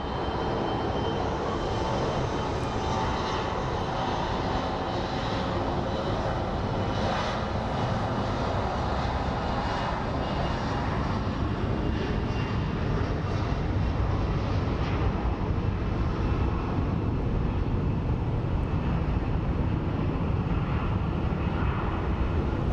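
A Delta airliner takes off at Phoenix Sky Harbor airport, its jet engines roaring loudly and steadily throughout, with the broad rumble holding strong from a fairly close distance and no talking.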